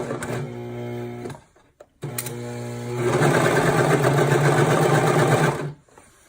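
A sewing machine stitching fabric for a car trash bag runs in a steady close whir for about a second and a half, stops briefly, then restarts and hums faster and louder until it halts near the end.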